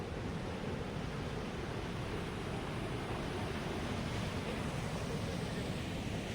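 A large river near a waterfall flowing, a steady broadband rush of water that stays even and moderately loud throughout with no speech.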